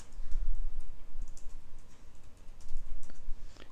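Quick bursts of close keystrokes on a computer keyboard as a name is typed, irregular clicks with short pauses between runs.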